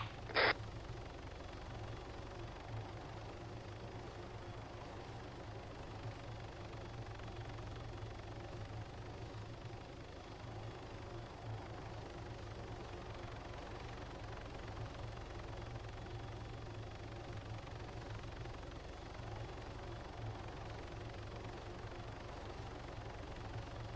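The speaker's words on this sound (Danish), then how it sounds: "Jeg er standby i helikopteren lige nu." An Arma 3 helicopter rotor and engine hum steadily on standby, a low continuous drone with a brief sharp click near the start and no talk.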